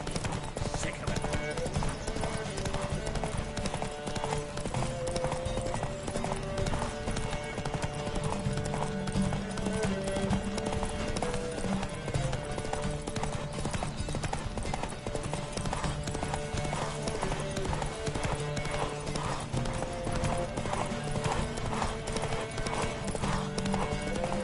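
Horses galloping in the video game Witcher 3, with steady rapid hoof clip-clops over a dense, busy bed of sound and an occasional whinny, continuing throughout at an even, driving rhythm.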